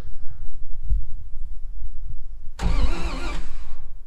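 A 1949 White Super tow truck's old engine cranks with a low rumbling churn, then catches and fires with a sudden loud burst before settling into a rough idle, up close with no talking.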